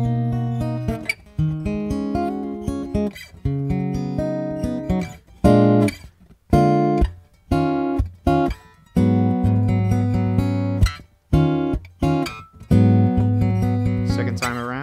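Guitar intro to a song, played as a lesson example: clear picked and chorded phrases with short pauses between groups of notes, close and moderately loud, with no talking.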